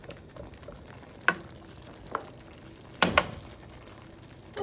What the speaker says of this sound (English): I'm going to stir that around until, like I said, melts a little bit.